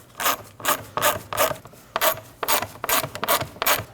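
Ratcheting tool snugging the plastic-housing bolts of a front power window motor on a 2011-2016 Kia Optima, with a steady run of close, rhythmic rasping clicks, one burst after another, and no talk.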